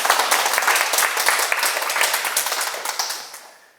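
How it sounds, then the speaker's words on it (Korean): Lecture hall audience giving a short burst of applause, dense and close clapping that tapers off quickly over a few seconds. "여러분 속지 말고 큰 박수 한번 부탁드립니다."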